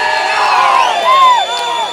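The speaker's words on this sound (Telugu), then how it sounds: "ఒక్క చప్పట్లు వేసుకోండి నాగరాజ్ సార్కి." An audience at a film audio launch event cheers and whoops for the producer, a short loud burst of crowd shouting with high voices rising over the noise.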